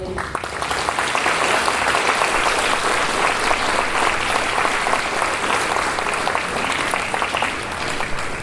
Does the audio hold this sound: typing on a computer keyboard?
no